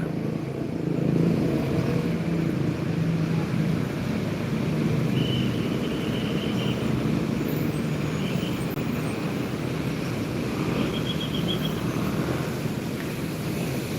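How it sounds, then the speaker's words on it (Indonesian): A steady, continuous engine drone and road rumble from a TAM Jet Bus 5 regular coach on the Pekanbaru–Bandung route, holding at a constant level with faint higher whines drifting in and out and no voices. "1 unit TAM yang reguler, bukan para wisata. Jet Bus 5 rute Pekanbaru sampai Bandung."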